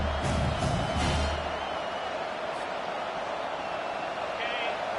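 A football stadium crowd roaring behind the home defense on a big third down, a broad distant rumble of cheering under a commentator's voice.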